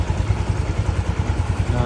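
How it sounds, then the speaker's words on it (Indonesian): Yamaha Mio 125 scooter engine idling after a major service with a new cylinder block, a close, steady low-pitched putter with a rhythmic pulse throughout. "inilah suara mesin dari Yamaha Mio 125 yang sudah kita ganti blok dan shaker ya"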